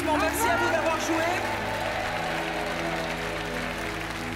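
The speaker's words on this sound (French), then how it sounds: "On vous laisse repartir sous les applaudissements" Studio audience of a French television game show applauding as departing contestants leave, a steady wash of clapping under music and background voices, holding at an even level throughout.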